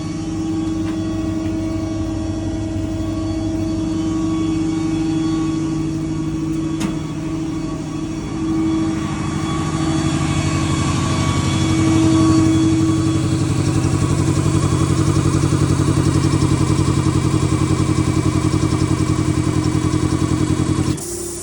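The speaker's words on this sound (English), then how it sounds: "The compressor is now running." A truck-mounted air compressor on a 2015 Ford F550 service truck with an IMT Dominator bed runs steadily at close range, a continuous droning mechanical hum with a low engine-like rumble that grows slightly louder partway through, with no talking.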